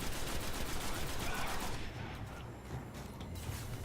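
Rapid gunfire in the video game Destiny, a dense continuous barrage of shots that stays loud throughout, with a brief voice mixed in under the shooting.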